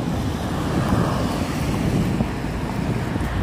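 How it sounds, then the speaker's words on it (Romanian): Strong wind buffets the microphone with a loud, continuous roar and rumble, unbroken throughout and without any voices. "o suflă vântul din nou"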